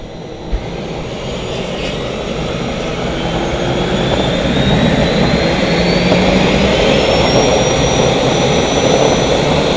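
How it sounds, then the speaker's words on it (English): Steady, loud turbine roar with a rising high whine from the Caterpillar gas turbine engine on an Arneson Sanger boat, building slightly over the clip with no talk, heading to Discovery Bay, California. "Fire up the engine again."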